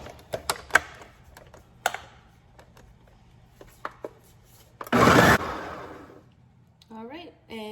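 Blender whirring through pozole sauce in a home kitchen, a loud roaring burst lasting under a second, preceded by scattered clicks and taps of preparation and followed by brief talk.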